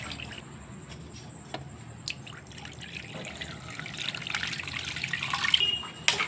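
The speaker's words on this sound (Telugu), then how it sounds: "ఇదిగో చింతపండు నీళ్ళు వేసేస్తున్నానండి" Tamarind water poured from a vessel into a cooking pot for a traditional fish curry, a soft continuous trickle and splash that swells toward the end, close and fairly quiet, with no talking.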